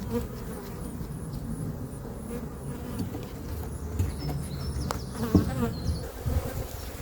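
Honeybees buzz steadily around an open hive body as a beekeeper inspects it outdoors, a dense close swarm drone with individual bees whining past, plus a few clicks and knocks of the hive being handled; nobody speaks.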